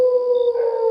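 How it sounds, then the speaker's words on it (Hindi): A jackal howls in a village forest setting, a single sustained, steady wailing tone that is loud and clean, holding for about a second without other sounds. "जंगल से दूर कहीं सियार की आवाज आ रही थी।"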